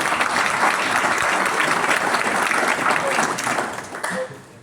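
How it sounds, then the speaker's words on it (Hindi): Loud, sustained applause from a gathered crowd, an even roar of many clapping hands that stays strong and tapers off in the last moment, with faint voices underneath. "जोरदार तालियां बजाएं"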